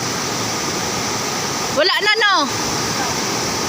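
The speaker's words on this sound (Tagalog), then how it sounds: "Kay grabe ang sapa, oh. Ang laki na ng tubig." A swollen, flooded creek rushes with a loud, continuous roar of water close by, while a voice briefly speaks over it midway.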